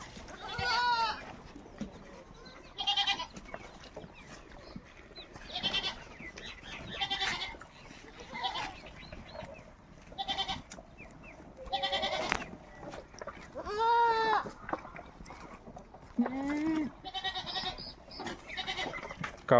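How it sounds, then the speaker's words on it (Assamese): Farm goats bleat again and again, close and fairly loud, their wavering cries coming in irregular bursts every second or two with no talking. "ছাগলী দেখিছে আপোনালোকে।"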